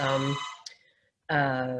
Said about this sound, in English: sorry for my landline phone ringing there